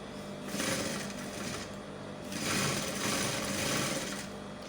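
Sewing machine stitching along the edge of a corset lacing bar, a steady mechanical whir running in two or three short bursts with brief pauses between them, close and moderately loud.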